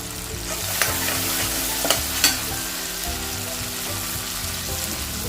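Tomatoes softening with salt in a pan for a sprouted green moong curry, giving a loud, steady sizzle with a few clinks and scrapes from stirring.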